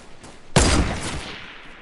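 A burst of video game gunfire erupts suddenly, loud and dense for about half a second, then trails off into a ringing decay, with no talk over it.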